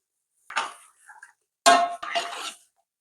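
Chicken pieces tipped into a pot for a 1 kg Hyderabad chicken biryani give two close bursts of clattering thuds and scraping, separated by a short quiet gap.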